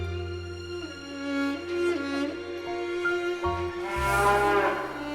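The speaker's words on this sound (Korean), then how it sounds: "한우 190마리를 키우고 있는" Hanwoo cattle on a farm of about 190 head in Boeun, North Chungcheong, Korea, moo loudly and repeatedly, long droning calls overlapping one another close by with no talk.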